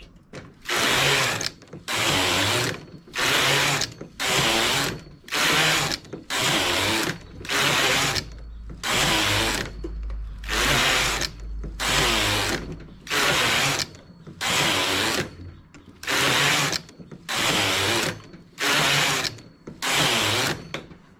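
A knitting machine works tubular knitting in loud rhythmic bursts, each carriage pass a mechanical ratcheting clatter about a second long, separated by short pauses and repeating evenly throughout.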